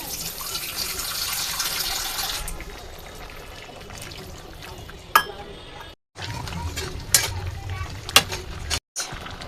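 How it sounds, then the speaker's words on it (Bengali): Water is poured into a pan of grass carp fish curry cooked with potatoes and peas, a steady hissing pour for a couple of seconds, followed by quieter kitchen sounds with a few sharp clinks and clatters. "এখানে আর একটু জল দিলাম।"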